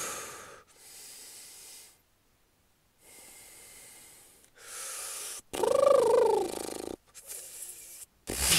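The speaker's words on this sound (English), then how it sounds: "I just started doing crazy breathing techniques, like I'm some kind of like Demon Slayer character" A person demonstrates exaggerated deep breathing, loud forceful inhales and exhales in separate bursts with silent gaps, some breaths rasping and strained, close to the listener.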